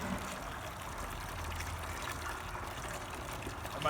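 Soapy water runs through the heater core hose of a Jeep XJ being back-flushed, a steady close trickling and gurgling flow with no pauses.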